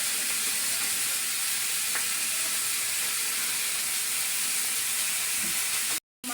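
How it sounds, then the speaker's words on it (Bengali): Poa fish fry in hot oil with a loud, constant hiss and sizzle that runs steadily throughout before cutting out abruptly near the end. "মাছগুলো ভেজে নিচ্ছে। এটা হচ্ছে পোয়া মাছ"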